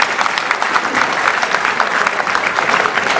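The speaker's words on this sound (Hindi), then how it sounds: "एक बार जोरदार ताली बजा के बताओ" A crowd at a Hindi comic poetry gathering breaks into vigorous, dense clapping, loud and steady for the whole stretch with no voice over it.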